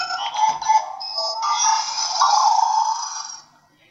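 After scanning, the Ejen Ali Project IRIS toy gadget plays an electronic tone, a bright synthetic chirp that rises into a sustained buzzy beep and cuts off after about three seconds, loud and close, with no talk over it.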